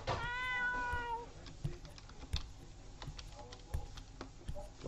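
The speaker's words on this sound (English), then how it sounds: "Where'd the cat noise come from?" A cat meows once near the start inside the horror game Ib, a short rising-falling cry, followed by quieter game ambience with scattered soft clicks and taps.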